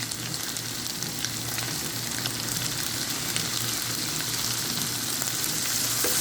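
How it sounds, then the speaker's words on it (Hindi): Goat or mutton meat sizzling steadily in a pot with haleem masala, a continuous close frying hiss with faint stirring scrapes and no voices. "इसको हम भून लेंगे दोबारा से मसालों में।"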